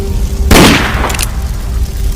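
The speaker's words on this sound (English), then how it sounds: "The gunshot pierced through the air" A single sharp gunshot rings out as a sound effect in an audiobook, cracking loud and sudden before trailing off into a brief echo against quiet background.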